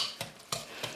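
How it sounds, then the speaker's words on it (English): A utensil stirs eggs into a sweet almond filling in a bowl, giving three scraping strokes over a soft, steady swish, close and moderately quiet with no talk. "So just breaking up the egg and mixing it in"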